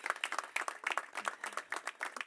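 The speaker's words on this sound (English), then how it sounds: "Please give Ralph another round of applause." An audience at a ribbon cutting for a city real time crime center claps steadily, a dense patter of many hands at moderate distance, with no voices over it.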